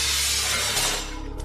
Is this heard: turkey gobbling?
no